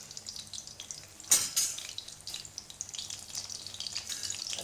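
Dough frying in desi ghee gives a steady close sizzle with a louder crackling burst early on, then continued bubbling and spitting in the hot fat, with no talking.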